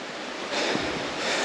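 Christmas Creek rushing beneath a well-known fallen log crossing on a bush hike, a steady broadband wash of flowing water that swells slightly louder midway, close and continuous with no voices.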